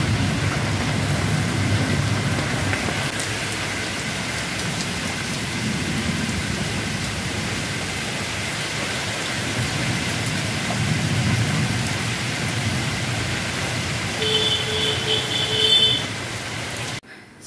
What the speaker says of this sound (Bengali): বাইরেটা কতটা বৃষ্টি পড়ছে, আর মেঘও ডাকছে, বিদ্যুৎ চমকাচ্ছে